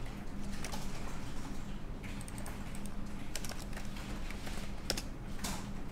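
Computer keys clatter in scattered short bursts while building a living-room perspective in SketchUp, crisp clicks over a steady low background hum, no talking.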